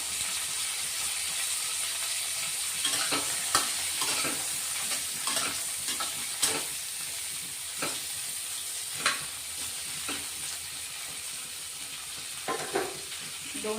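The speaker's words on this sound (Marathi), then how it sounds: "कढईमध्ये थोडं थोडं तेल टाकून घेतलंय आता दोन ते तीन मिनटं आपण कारले परतून घेणार आहे" Bitter gourd sautéing in oil in a kadhai, with a constant close hiss and sizzle broken by repeated stirring scrapes and taps, and no voices.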